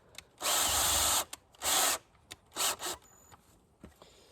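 A power drill drives screws into a wooden board for a duck coop. Several bursts of whirring come close and loud, two long runs followed by shorter ones, with brief clicks and gaps of quiet between them.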